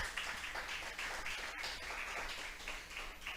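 A church congregation breaks into sustained applause, a continuous wash of many hands clapping with slight swells, fairly distant and reverberant.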